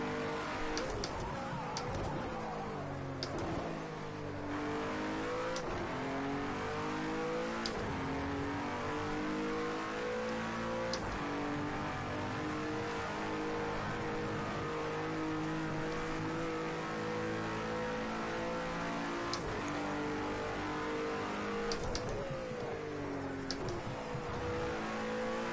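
A Cadillac ATS GT3 race car in Project Cars 2 drives continuously, its engine note rising and falling through gear changes with repeated revving and shifts, loud and close throughout, with no talking.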